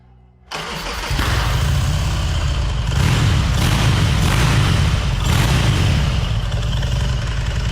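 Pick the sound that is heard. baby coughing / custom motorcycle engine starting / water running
custom motorcycle engine starting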